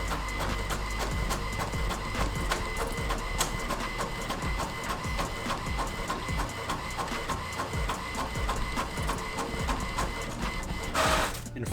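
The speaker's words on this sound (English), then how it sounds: "just make sure it's to the right printer" An inkjet-style printer prints a mudguard template, running a steady mechanical chatter of rhythmic carriage passes and clicks that ends in a brief louder whir, with no talking.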